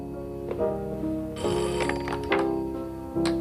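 A telephone rings in a 1978 French film scene, several bright repeated rings with short gaps between bursts, fairly loud and close, with no talking over it.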